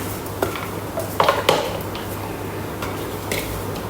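A utensil mashes hot sautéed onion in a pan while making vegetable wraps, giving a few sharp metallic clinks and scrapes against quiet, steady background hum.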